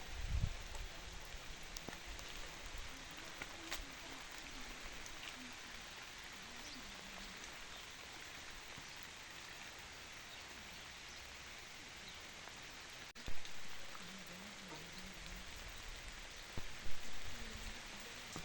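Steady rain patters on cherry tree leaves and fruit near a terrace, a soft continuous hiss with a few louder drips.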